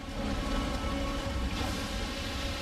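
Heavy rain pours continuously in a violent storm, a dense, steady wash of sound with a low rumble beneath it and no voices.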